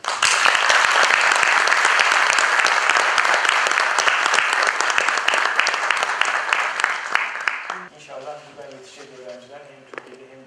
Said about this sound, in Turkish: bir alkışlayacağım